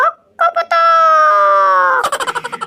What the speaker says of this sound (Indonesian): Wow, ini ayam berkokok.